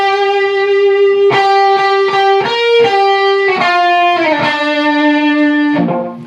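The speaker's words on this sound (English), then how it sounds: "that's the second guitar harmony for the intro" Electric guitar with light distortion playing the second harmony line of a song intro, a loud, close run of picked sustained notes shifting pitch and ending with a quick descending phrase.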